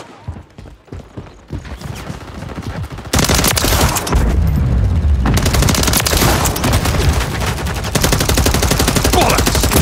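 Call of Duty gunfire starts with scattered shots, then builds into loud, relentless automatic bursts and rattling fusillades with deep booms, forming a near-constant barrage.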